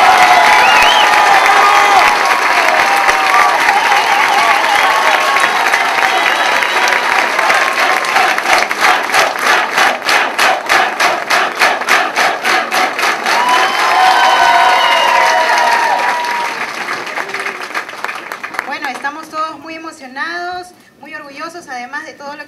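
Loud, sustained applause from a crowd after a recital by six choirs, with cheering mixed in and clapping continuing steadily before easing toward the end as voices begin to speak.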